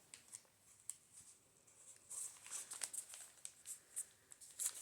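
Sheets of a handmade junk journal being gathered and fastened with paper clips, giving soft rustling and crinkling with several light, quick clicks and taps, close and faint.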